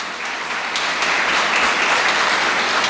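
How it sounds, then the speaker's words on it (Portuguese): Congregation at a Catholic prayer group meeting clapping loudly and vigorously in praise, a thick, steady wash of applause that swells slightly as it goes on. "Vamos aplaudir o Jesus. Bem alto, bem forte."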